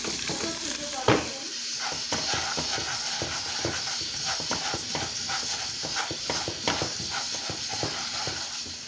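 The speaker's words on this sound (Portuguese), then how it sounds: "Tô dourando bem a cebola com azeite e manteiga" Onion browning in olive oil and butter in a home kitchen pan, a loud continuous close sizzle with scraping stirs and occasional utensil knocks, someone talking over it.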